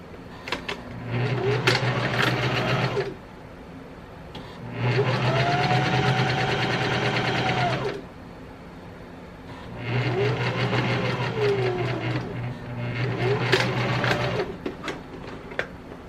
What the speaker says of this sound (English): Go ahead and sew that down to that edge